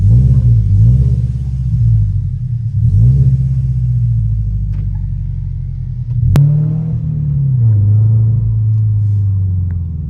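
Subaru BRZ fitted with new headers revving through its exhaust, a loud, close, low rumbling engine note that swells in two rising revs, dips, then surges again with a sharp click midway, no voices.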